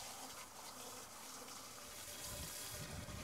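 Water gushes steadily into a VEVOR sand filter vessel for a farm pond, a continuous close hissing pour with no talking over it.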